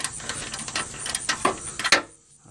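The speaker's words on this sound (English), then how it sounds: "Okay, we just about got the last bolt out," A hand ratchet turns out the last fender bolt on a 2002–2005 Ford Explorer, giving rapid, close clicking strokes in uneven bursts before stopping abruptly into near silence.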